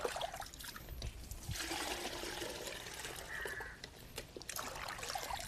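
Water scooped and poured out of an abandoned pond during fish catching, a continuous close splashing trickle and dribble with uneven surges, no talk.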